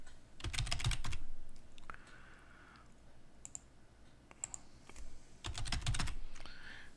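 Bursts of rapid computer keyboard typing, clusters of sharp clicking keystrokes at the start and end with sparse isolated taps and a faint hum in between, close and fairly quiet.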